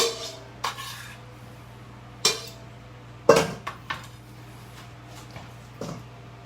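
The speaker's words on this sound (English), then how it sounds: "We're going to put it in our mixing bowl right here." Avocado scooped into a mixing bowl with metal utensils, with several loud, close clanks and clinks against the bowl separated by brief quiet gaps.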